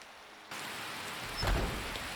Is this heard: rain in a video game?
yes